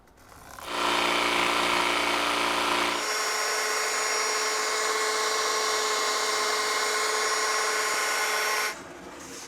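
A handheld power drill spins up loudly and runs steadily for several seconds, its whine shifting to a higher pitch partway through before winding down, heard close with no talking during a home door-relocation job.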